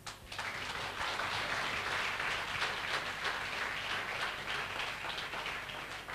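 Loud, dense applause from an indoor audience cheering a business success talk, steady crowd clapping that fills the whole stretch with a hissy, rain-like wash and no voices on top.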